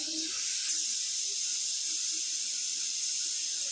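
A loud, steady hiss of tamarind broth simmering hard in a pot, continuous and close, with no talking.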